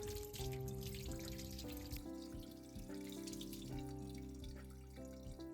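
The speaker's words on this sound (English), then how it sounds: "then I wash out the salt with the water" Tap water runs steadily over cucumbers in a kitchen sink, rinsing off the salt, with soft music playing throughout and no talking.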